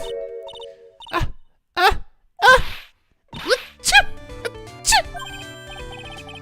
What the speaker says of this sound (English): What a wonderful sneeze.